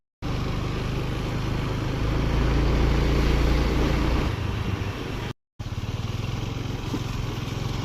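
Activa scooter engine, after failing to start on the kick, fired up with the electric starter, running continuously with a steady buzzing drone, loud and near, with a brief dropout partway through.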